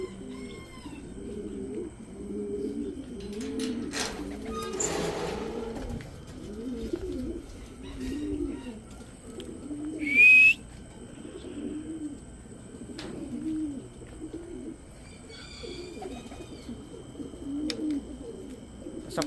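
Racing pigeons returning to the loft after a hard race in Ilagan, Isabela, coo softly and repeatedly nearby, joined by scattered chirps and one sharp short call partway through.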